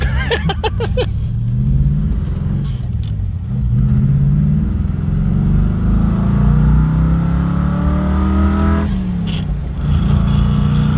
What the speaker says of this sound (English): That's revs, doesn't it?